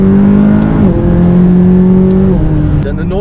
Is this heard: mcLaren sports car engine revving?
yes